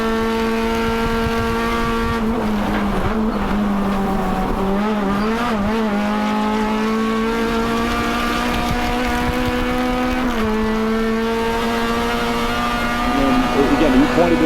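Race cars at Road Atlanta, including a V8, roaring past at high revs with steady engine tones rising and falling through gear changes, loud and close, under commentators talking.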